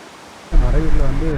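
A waterfall in Munnar drops from a high place, its steady rushing roar swelling in abruptly after a quiet start and continuing loud and close, with a voice speaking over it.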